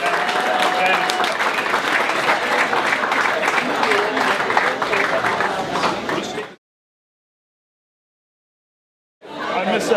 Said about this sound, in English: Let's get a nice round of applause for all the wonderful toasts